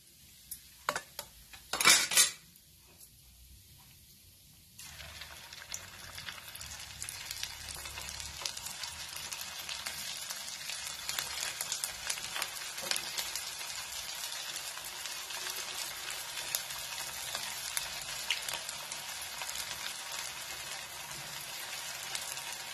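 Mini samosas deep-fry in oil with a steady fizzing sizzle; a brief clatter of utensils and a quiet lull come first before the frying noise settles in at a moderate level.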